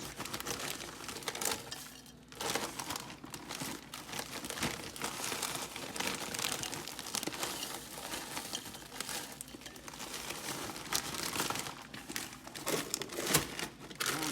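A large bag of frozen mixed vegetables with green beans, corn and carrots crinkles and rustles up close in a steady, busy stream of plastic crackling with small rattling patters.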